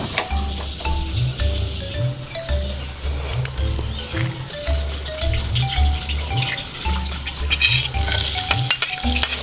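Chayote sizzles and fries in a hot pan while being stirred, with scraping strokes of the utensil over a constant crackle and a low background hum.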